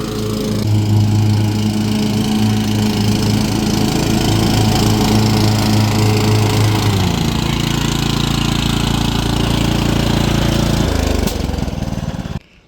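Automatic lawn mower cutting a yard: a loud, steady engine drone running close for about twelve seconds, dropping in pitch partway through before cutting off abruptly at the end.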